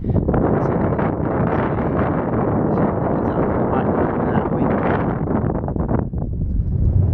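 Strong wind buffeting the microphone, a loud continuous roar with gusty rustling throughout and no voices.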